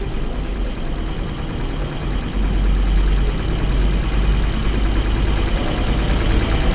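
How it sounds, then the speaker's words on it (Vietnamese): A 1998 Honda Chaly 50cc motorbike idles, heard right beside the exhaust: a steady, loud low putter with an even running rhythm and nothing else over it. "em đang ngồi kế bên cái bô luôn, là để cho anh chị nghe cái tiếng garanti của em nói ha"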